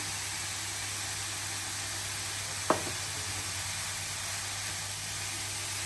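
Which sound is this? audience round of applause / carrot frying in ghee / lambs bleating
carrot frying in ghee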